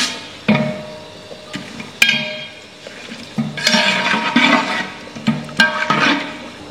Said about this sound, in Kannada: ಎಣ್ಣೆ ಕಾದಿದೆ, ಇವಾಗ ಎಣ್ಣೆ ಮತ್ತು ತುಪ್ಪ ಹಾಕಿ ಕಾದಿದೆ. ಇವಾಗ ಮಸಾಲೆಗಳನ್ನ ಹಾಕೋಣ.